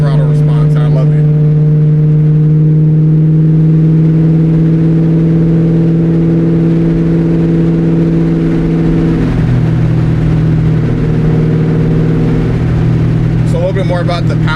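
A 1999-2004 New Edge Ford Mustang GT with a cable-driven throttle, 260 horsepower, heard from inside: a loud, steady engine drone that drops in pitch partway through, then holds a lower tone.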